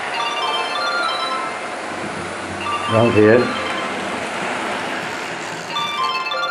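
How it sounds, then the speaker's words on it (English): A mobile phone rings with a repeating melodic tone under a steady hum in a room where Hornby model trains are running. A person speaks briefly over the ringing. "My phone's ringing."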